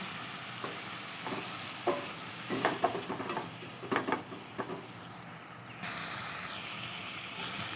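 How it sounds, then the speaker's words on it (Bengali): A spice paste with turmeric and a splash of water sizzles in a pan while a spatula scrapes and taps irregularly, close and moderate in level, and the hiss swells near the end. "একটু হলুদ সামান্য পরিমাণ জল দিয়ে মশলাটা আমি কষিয়ে নেব"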